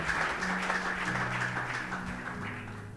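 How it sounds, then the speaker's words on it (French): A church congregation claps over sustained organ or keyboard tones, a moderate patter of applause that gradually fades across a few seconds. "Acclamons la parole du Seigneur."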